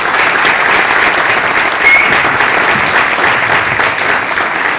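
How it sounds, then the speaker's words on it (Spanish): Audience applause at a conference in a cultural centre in Realicó, a dense, steady wash of clapping that holds at full strength for the whole stretch without easing off. "así que les quiero pedir un aplauso."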